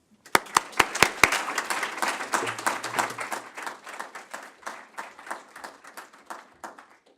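An audience claps to welcome a professor to the lecture stage. Several sharp, loud claps open the applause, then it settles into steady, even clapping from a crowd in a hall that slowly thins out.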